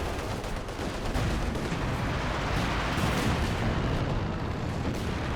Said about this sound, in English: Although we have light artillery barrage coming into play